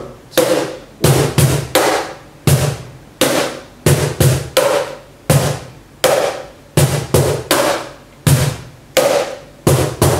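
A cajon struck by a player keeping the shoulders stiff and swinging from the elbows: about twenty close, loud, dull thumps and slaps in a steady, even rhythm, with no talking.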